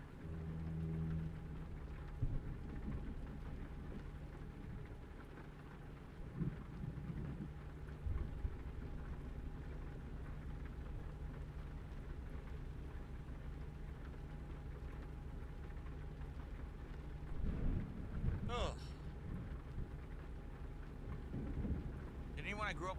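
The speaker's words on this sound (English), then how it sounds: "there's so many flat plains here and just a constant thunderstorm." Steady rain and rolling thunder from a constant thunderstorm over flat plains in a truck simulator game, a continuous low rumble with a brief sharper crack near the end, heard without speech.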